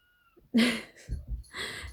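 A house cat meows loudly and close in an indoor craft studio, giving one drawn-out call followed by shorter throaty vocal sounds, with no talking.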